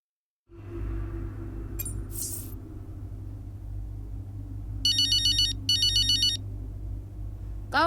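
A phone ringtone in the F1 23 Braking Point racing game plays two bursts of bright electronic trilling over a low, steady engine-like drone, loud and close with no talk.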